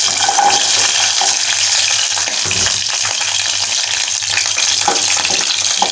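Ingredients for sambal kecap kemiri sizzle in hot cooking oil. The loud, steady frying crackle runs the whole time with no voices.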